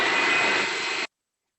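A food processor roars steadily as it pulses imitation crab and mayo into a smooth mix. The loud, dense whir lasts about a second, then cuts off abruptly into silence.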